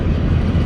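A BNSF freight train rolls past at Palmer Lake, Colorado, a steady, loud low rumble filling the short moment with no break.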